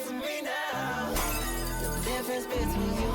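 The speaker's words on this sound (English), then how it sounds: "So much glass shattering." Glass shatters within an electronic music track, a bright crash bursting through dense layered music and distorted bass, with the texture shifting abruptly midway.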